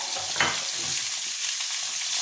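Pointed gourd fries with turmeric in a pan, giving a steady close sizzle with one brief stirring clatter near the start.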